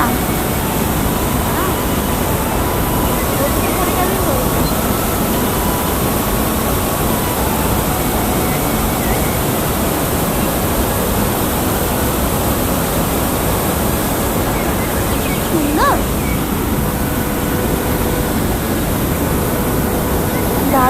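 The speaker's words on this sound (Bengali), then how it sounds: "এটা ছোটখাটো ঝর্ণা" A small waterfall gives a loud, steady rush of water that continues unbroken throughout, with a few faint background sounds underneath.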